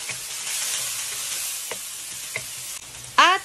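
Tomato, onion and garlic sauté in hot oil for Filipino pakbet, giving a steady close sizzle with occasional stirring clicks and a brief sharp squeaky sound near the end.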